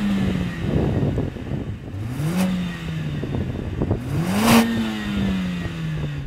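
A Mercedes-AMG A45 S engine is revved repeatedly, rising and falling in pitch in two or three distinct revs with sharp crackles, heard close and fairly loud with no talk.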